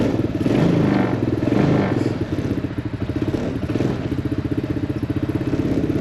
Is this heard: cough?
no